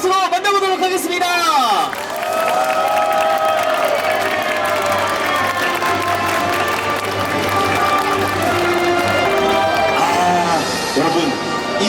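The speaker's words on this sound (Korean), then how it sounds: "여러분, 이 정도 박수로는 또 등장을 안 하신다고 하시네요" Audience at a game show stage event for G Generation claps and cheers loudly and continuously, a dense crowd roar with whoops and shouts rising over a steady bed of applause.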